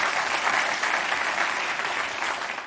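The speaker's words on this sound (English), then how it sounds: "Round of applause for our 2 volunteers." An audience claps for two volunteers at a talk, a steady, fairly loud round of many hands that carries evenly from start to finish with no voices on top.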